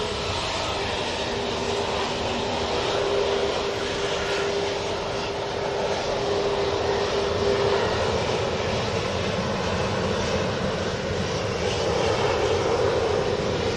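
A Ryanair jet passes near Manchester Airport, a sustained, fairly loud engine roar that swells gently and lingers from a moderate distance with no one speaking.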